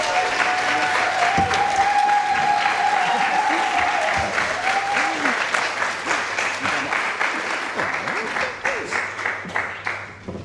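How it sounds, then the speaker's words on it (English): An audience claps at an awards dinner, with sustained, fairly close applause that swells and then thins toward the end; a voice is heard briefly over it. "So let's give Lee a round of applause."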